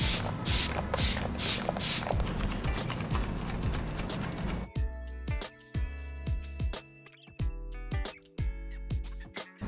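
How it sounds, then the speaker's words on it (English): A makeup setting spray mists onto a face in a few quick, hissing bursts at close range, then gives way to rhythmic clip-clop knocks. "I'm going to spray my face with a little bit of fixed blush."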